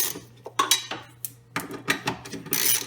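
Ratchet spinning out 10 mm bolts under a 2000 Dodge Neon to drop the evap canister, giving quick bursts of metallic clicking and clanking up close, with no talk.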